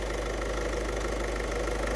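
A diesel car engine idles nearby with a steady low rumble and a fast, even knocking pulse, unchanging throughout with no voices.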